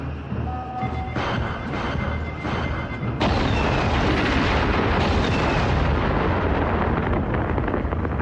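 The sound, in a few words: explosions in the 1994 film A.P.E.X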